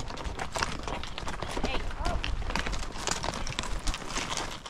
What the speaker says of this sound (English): This is Dean's 4th horse drive